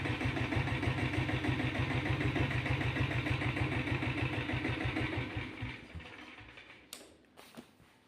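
Royal Enfield diesel Bullet motorcycle engine running at slow speed, a steady, loud, rhythmic low thumping that carries for about six seconds, then fades, ending in a few scattered clicks and knocks.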